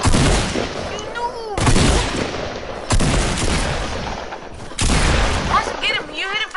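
Gunfire in Fortnite, several loud bursts of shots in separate clusters, close and punchy, with players talking over and between them.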